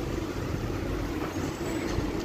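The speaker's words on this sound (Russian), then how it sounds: "Здесь машины ездят." Passing cars on a city street in Odessa, a steady low traffic rumble and road noise filling the whole short stretch with no talk.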